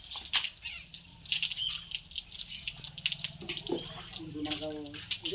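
Water pours and splashes over a bull's legs as it is washed after cart-pulling practice, a close, continuous gush with scattered drips and a few splattering bursts.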